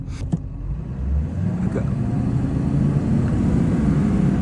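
Duramax diesel dual-rear-axle pickup with over 400,000 miles, accelerating at full throttle: a steady, loud low engine roar building and holding for several seconds, with no talk over it.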